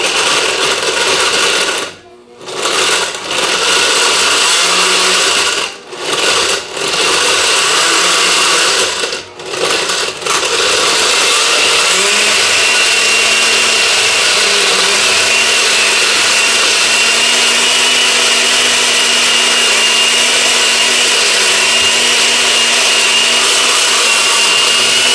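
Countertop blender on its frozen drink setting blending a piña colada: a loud, steady motor whir that stutters with a few brief pauses early on, then runs continuously and grinds evenly to the end.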